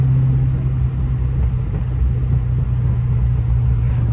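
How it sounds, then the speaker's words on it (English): A Chevy S10 pickup with a swapped 6.0 engine and T56 transmission idles nearby with leaking exhaust, producing a loud steady low rumble without revving. "Tons of exhaust leaks."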